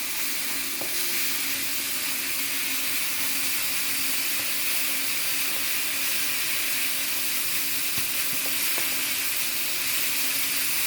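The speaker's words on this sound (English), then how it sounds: "I'm going to let that fry for a little bit." Shrimp and vegetables fry in a pot with a loud, continuous broadband sizzle and hiss that holds steady throughout, with faint occasional clicks and no talking.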